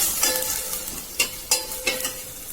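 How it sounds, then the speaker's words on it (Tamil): Ginger garlic paste fries with onions in a pan for a kurma, a steady faint sizzle punctuated by a few sharp scraping stirs, with no voices over it. "இப்ப இஞ்சி பூண்டு பேஸ்ட் போட்டுக்கலாம். அது நல்லா ஃப்ரை பண்ணிக்கலாம்"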